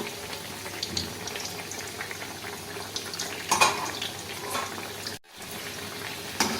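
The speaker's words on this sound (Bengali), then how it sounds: "এপিট ওপিট করে একটু ভাজতে হবে, তাহলে বেশ মচমচে হবে" Drumstick flower fritters frying in oil make a continuous crackling sizzle, with occasional bubbling pops and utensil scrapes, briefly cutting out before resuming.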